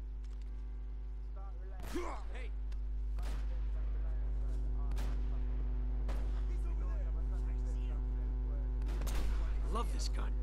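Gunfire in the Uncharted video game, a series of sharp shots spaced a second or two apart over a steady low hum, with a voice talking faintly underneath.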